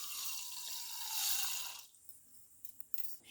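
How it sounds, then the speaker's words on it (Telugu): Water being poured into a pot for gulab jamun sugar syrup, a steady splashing stream that stops partway, followed by a few faint drips and small knocks. "వాటర్ యాడ్ చేసుకున్నాను ఫ్రెండ్స్"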